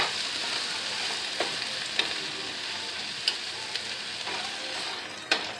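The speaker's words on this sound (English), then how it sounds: "Okay, so let's get this all nice and sauteed in here." Red onions with red and green bell peppers sauté steadily in a pan, a continuous bright sizzle with occasional sharp clicks of stirring, close and unaccompanied by talk.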